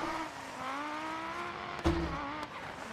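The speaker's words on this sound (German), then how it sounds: "der Sound vom Audi nachgemacht wurde" The engine of an Audi rally car in the racing game Dirt Rally, heard from outside, holds a steady revving drone. A short burst of tire or gravel noise cuts in partway through.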